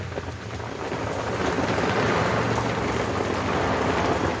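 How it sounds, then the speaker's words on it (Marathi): Heavy rain pours down steadily at a harbour where boats are moored, a dense, loud hiss of drops hitting surfaces nearby, building slightly and holding without pause. "चिकार असा पाऊस पडत आहे"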